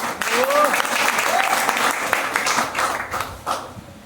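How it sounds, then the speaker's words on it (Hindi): Loud, dense audience applause fills the whole stretch, a steady wash of many hands clapping with a few brief whistle-like tones near the start. "इस बात में जोरदार तालियां होनी"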